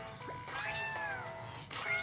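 Cartoonish cat meows from the Cat Evolution video game: two or three drawn-out, rising and falling mews in quick succession over a continuous background music bed.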